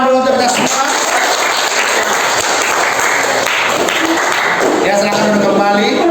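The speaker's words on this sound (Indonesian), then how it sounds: "Oke, tepuk tangan dulu untuk kita semua." Classroom applause from a group of students, steady clapping throughout with some voices mixed in.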